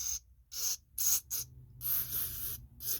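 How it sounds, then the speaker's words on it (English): Aerosol cleaner sprayed into the carburetor bowl of a Coleman Powermate generator with a Tecumseh engine, several short hissing bursts in an irregular rhythm, close and fairly loud, with no talk. "Now we want to clean this bowl out, so we're going to spray a little bit of that"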